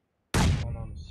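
Grenade blast in an online shooter video game, a single sudden loud explosion bursting out of silence and then decaying into a rumbling tail.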